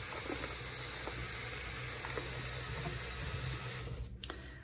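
A tap runs steadily as a silicone breast pump part is rinsed beneath it. The water hiss is close and even, then cuts off near the end, followed by a few small knocks.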